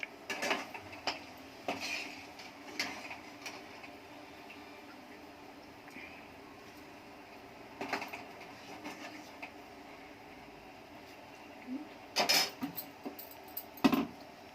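Rice and masala being stirred in a pot for plain biryani, with scattered clinks and scrapes of a spoon against metal over quiet background, louder clusters of knocks toward the end.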